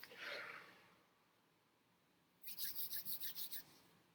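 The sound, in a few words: hands rubbing together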